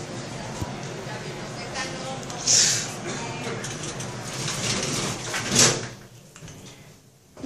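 A ThyssenKrupp hydraulic lift in an underground station slides its doors and moves, giving a steady mechanical rumble with two brief sharp hisses or clunks before the noise drops away, while a person talks nearby.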